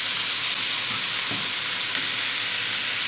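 Hot oil sizzles and fries continuously as tamarind water goes into a pan of garang asem chicken, a bright steady hiss with faint stirring and bubbling underneath, close and loud with no talking.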